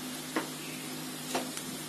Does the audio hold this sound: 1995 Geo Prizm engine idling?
no